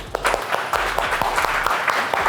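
Applause from an audience at a coaching-course graduation event, with steady mixed clapping running through the whole stretch and no talk over it.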